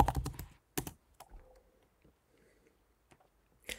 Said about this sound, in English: you type your domain name and you add